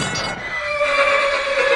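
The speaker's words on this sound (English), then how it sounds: "have a look at what Gerald's horses are" A racehorse from Gerald Ryan's stable neighs loudly and close at a Queensland racetrack on Doomben 10,000 day, one drawn-out whinny that rises and holds.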